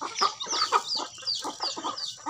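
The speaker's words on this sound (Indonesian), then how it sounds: "ini ayam saya semua ya teman-teman" Several chickens cluck nearby in a busy, overlapping stream of short calls, with no one talking.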